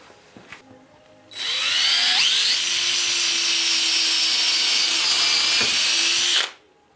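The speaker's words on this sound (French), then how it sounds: "après il n'y a plus qu'à percer." An electric drill bores perpendicular through knotted wood while building a garden forcing tunnel for a raised vegetable bed. It whines loud and steady for about five seconds after a few light knocks, then stops abruptly.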